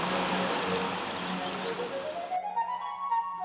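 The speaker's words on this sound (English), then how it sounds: "washing in the brook Jabbok" Water flowing in the brook Jabbok in Jordan splashes and rushes steadily as someone washes in it, then thins into a quieter trickle near the end, close by with no voices.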